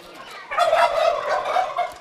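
Farm turkeys gobble loudly and close by, a rapid warbling burst that swells after a quieter start and carries on for about a second and a half.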